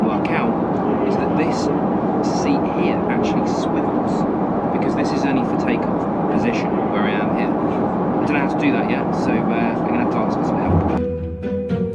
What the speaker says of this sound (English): We hurtle down the runway and off into the German morning haze over Frankfurt.